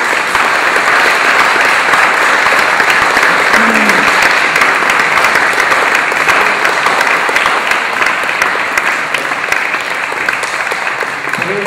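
Loud, continuous applause from the audience at an award ceremony for golden guitars, dense clapping filling the whole stretch at an even level without talk.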